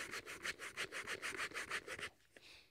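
Quick, rhythmic scraping of a Canon RF 24-105 lens barrel extending, cheap plastic rubbing in about a dozen close, even strokes before stopping, faint and alone.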